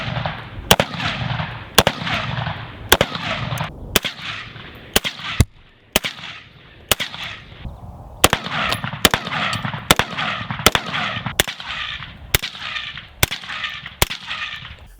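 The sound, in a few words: gunshots from rifle with Sylvan Arms SA30Ti suppressor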